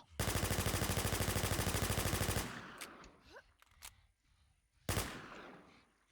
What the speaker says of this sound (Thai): เดี๋ยวผมลองยิงปืนอันนี้สักแบ็กหนึ่ง